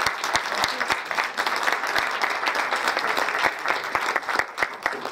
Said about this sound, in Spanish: Fuertes aplausos, por favor, para él.